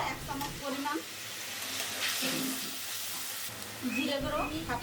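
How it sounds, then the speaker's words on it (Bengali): A spice paste of green chilli paste, sliced green chillies, cumin and nigella seeds sizzles in a pan with water, a steady hiss under intermittent talking. "কাঁচামরিচ বাটা কাঁচামরিচ ফালি জল দিয়ে মশলাটাকে কষিয়ে নেব"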